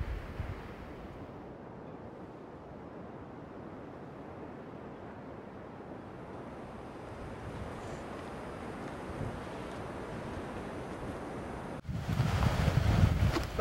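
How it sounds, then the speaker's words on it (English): Ocean waves heard from a hiking trail make a faint, continuous wash and rumble mixed with wind noise on the microphone, with a sudden louder gust of wind at the very end. "still hear the ocean"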